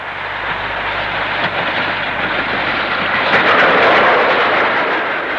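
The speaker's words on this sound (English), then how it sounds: "Coming from the north of England, near Warrington, is a Black 5 on a freight, coming down from Acton Grange Junction." A Black 5 steam locomotive hauls a freight train near Warrington in the north of England, heading down from Acton Grange Junction; a steady, loud rolling rumble of wheels and wagons runs throughout, swelling slightly toward the end.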